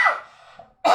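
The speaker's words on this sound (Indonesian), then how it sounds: "maaf saya batuk" A single short cough or throat clear bursts out at the start, then a pause and a breath before a voice resumes speaking.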